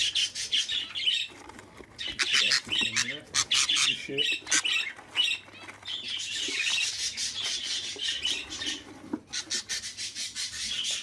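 Birds and chicks squawking inside a coop, giving a dense run of harsh, close, overlapping calls with brief pauses, plus some wing flapping and rustling. Faint talk can be heard in the background.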